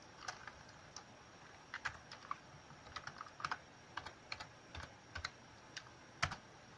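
Password being typed on a computer keyboard to unlock a BitLocker-encrypted hard drive: scattered, irregular keystroke clicks in short bursts, quiet and close, with no talking.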